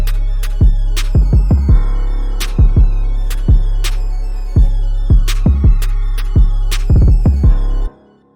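A dark trap beat made in FL Studio 21 pounds out booming kick drums and sharp snare hits in a steady, syncopated pattern. The sound is loud and close, with no voices, and it cuts off abruptly at the end.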